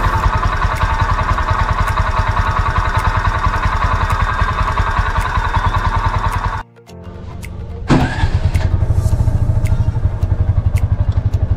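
A TVS King Maxer motorcycle engine idles with a rapid, steady putter after a fuel pump motor replacement, cuts out abruptly, then restarts and settles back into the same rhythmic idle.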